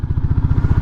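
A motorbike passing at a distance near a cricket stadium, heard as a steady, rhythmic low engine putter throughout, fairly loud and close-sounding, with no voices over it.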